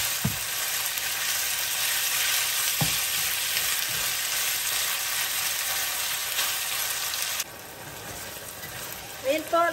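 Beef frying in a pan for ampalaya con carne, a loud, dense, continuous sizzle with a couple of utensil knocks, easing slightly near the end.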